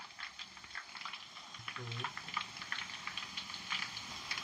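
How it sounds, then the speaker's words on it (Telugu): Bitter gourd pieces frying in oil in a pan for kakarakaya pickle, a soft steady sizzle and crackle held at low level throughout, with a brief voice near the middle. "ఇగో ఇట్లా వేపుకున్నాలి కాకరకాయ ముక్కలు"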